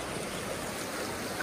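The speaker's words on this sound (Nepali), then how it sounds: "यहीँनिर हेर्नु न पानीको फ्लो हेर्नुहोस्" River water rushes steadily through Yumthang Valley in North Sikkim, a constant broadband roar of flowing current with no pauses, fairly close and filling the whole short stretch.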